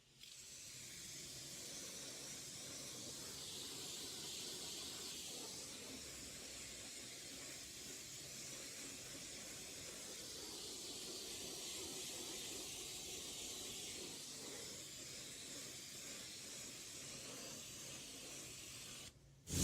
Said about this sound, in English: with the pressure washer, it foams up absolutely great